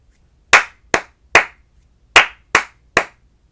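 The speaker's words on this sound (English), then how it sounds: "The rhythm that I just clapped was apple, pear, apple, pear." Six crisp hand claps close by, repeating a rhythm lesson pattern of two short groups, each a quick pair then a third clap after a longer pause, with no voices and clean silence between strikes.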